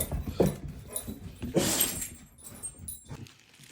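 A dog moving close by indoors, with soft whimpers, snuffles and light jangling, like tags or keys, in short irregular bursts at low level.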